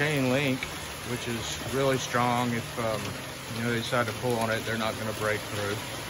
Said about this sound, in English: It's raining out here today, so that's the noise you hear.